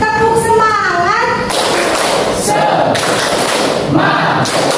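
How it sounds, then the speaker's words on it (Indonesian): Students in a classroom do the rhythmic tepuk semangat clapping chant, patterned claps and thumps mixed with children's voices calling out together, loud and close. "Tepuk semangat."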